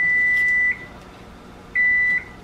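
Two steady electronic beeps from a kitchen timer, each a sustained high tone lasting about half a second, loud and close, separated by a short pause with no talking.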